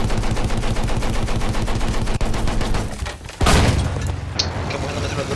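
Machine gun fire in the video game Battlefield 1 rattles in a loud, rapid, continuous burst up close for about three seconds, then a heavy cannon-like boom and further rumbling battle noise follow.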